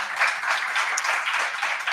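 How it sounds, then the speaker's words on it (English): Applause from a seated audience for a panel at a roundtable event against racism and Islamophobia, a brief, even wash of many hands clapping at moderate distance. "We'll give them a round of applause."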